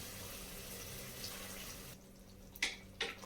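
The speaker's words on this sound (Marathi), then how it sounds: "तर आपण त्यात थोडंसं पाणी घालून घेऊ." Water poured into mutton in a cooking pot for mutton biryani or pulao, a steady splashing pour filling the first two seconds, then a pause and two short clinks near the end.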